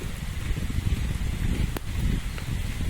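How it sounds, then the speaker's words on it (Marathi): Steady afternoon rain patters close by in Kumbhavade, Rajapur, in the Konkan, in a dense, continuous wash of noise. "बघा पाऊस जोरात पडता हो"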